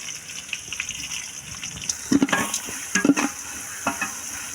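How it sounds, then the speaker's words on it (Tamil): Onions for a coconut-milk vegetable biryani sizzle in a pan, with soft hissing frying broken by a few scraping stirs, close by and moderately loud, with no one talking. "வெங்காயம் வந்து நல்லா வதங்கணும்."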